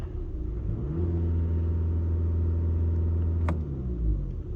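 A VW Golf with a diesel particulate filter pressure fault idles close up as a steady, low-pitched rumble. Its engine note rises in a revving swell partway through, then settles back. No one speaks.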